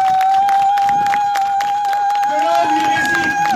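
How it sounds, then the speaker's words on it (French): Audience applause and cheering in tribute to Mali's former president Modibo Keïta, a sustained, dense roar of clapping throughout, with a steady high tone running under it and a shift in the crowd texture near the end. "je vous demande de l'applaudir comme il se doit"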